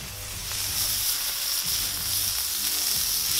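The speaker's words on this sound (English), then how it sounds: "now we're just going to put a little pile of onions for each of the sliders onto this hot plate" Small piles of onions sizzling on a hot plate for surf and turf sliders, a steady close crackling fry that swells slightly as more onions hit the surface, with no talking.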